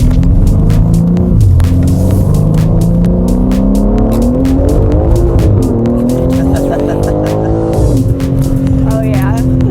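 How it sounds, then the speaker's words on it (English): Tuned turbocharged car accelerating hard, a loud continuous engine roar with rising and shifting pitch and a brief dip near the end, heard from inside with people talking over it. "The turbos will open up and you'll hear those a lot more as well."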